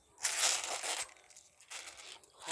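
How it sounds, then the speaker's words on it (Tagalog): Loose coins at a sari-sari store, scooped up and shuffled by hand, give bursts of bright metallic jingling and clinking, a longer rattle followed by a few shorter handfuls, close and fairly loud. "Kuha tayo ng ilang barya dito"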